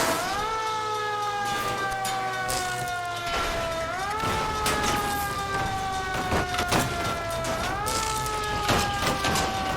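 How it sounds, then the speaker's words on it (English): A police car siren in the video game LA Noire wails continuously in repeating rising and falling cycles, loud and close, with scattered clatter and bangs underneath. "Put the siren on!"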